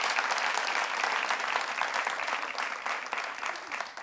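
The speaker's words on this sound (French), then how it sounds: "Merci d'applaudir très fort, Madame Pont." A studio audience bursts into loud, sustained applause, dense rapid clapping filling the space steadily and close at hand, with a few scattered voices in the crowd.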